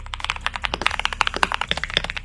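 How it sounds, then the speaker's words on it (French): Rapid, crisp keystrokes on a custom mechanical computer keyboard, close and clear, forming a steady clacking rhythm with no voices. "des personnes tapent sur leur clavier pour vous faire écouter le bruit qu'il fait"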